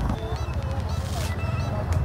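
Car horns honk amid busy road traffic jammed by a market, short nasal horn blasts repeating over a steady engine rumble, fairly close.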